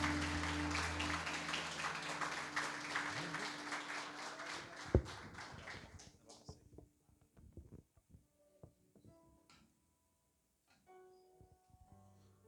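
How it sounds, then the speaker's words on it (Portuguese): A church congregation applauds together, a dense, fairly loud wash of clapping for several seconds that then thins and fades out, leaving scattered faint claps and near silence. "Pode aplaudir e glorificar o nome do Senhor"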